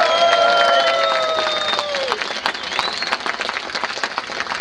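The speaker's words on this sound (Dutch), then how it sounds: "hard applaus!" Loud applause and cheering from a crowd at a ceremony honoring an Olympic gold medalist, with a few whistles rising over dense clapping that thins slightly toward the end.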